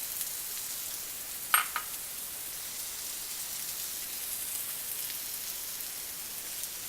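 Broccoli, snow peas and snap peas sizzling in a pan for a vegan stir fry, a steady bright hiss with one sharp clink near the start, no voices.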